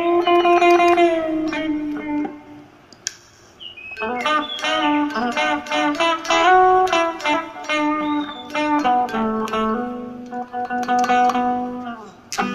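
A Cort CR200 Les Paul-style electric guitar, Indonesian made, plays a clean single-note melody of bent and sustained phrases, with a short pause and some quiet fretting noise between lines, heard alone.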